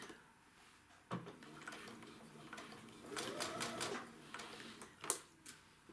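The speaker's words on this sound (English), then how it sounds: "I'm gonna backstitch just a bit." A sewing machine backstitches a seam while piecing a 60-degree equilateral triangle quilt, giving a soft, faint mechanical whir with brief stitching bursts and a few light clicks.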